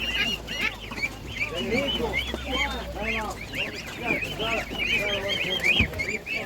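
Muscovy ducks and turkeys at a village animal market give repeated nasal calls and quacks, near and fairly loud, mixed with people talking throughout.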